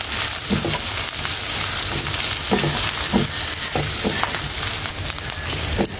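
Four cinnamon sticks and whole black cardamom sizzle in hot oil for a beef fry, a dense continuous crackle with scattered sharper pops and light stirring throughout.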